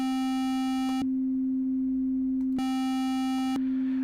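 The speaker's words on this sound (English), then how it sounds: "it's only a sine wave" A steady sine test tone plays through the Thickify plugin in Cubase Pro 11, a pure constant hum joined twice by a bright harmonic-rich chirp that switches on and off, loud and close with no talk.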